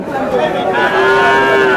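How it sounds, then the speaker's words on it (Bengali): A dairy cow at a cattle market in Bangladesh moos loudly and close by, one long drawn-out low call that rises and holds, with faint background noise. "দুধের গরু"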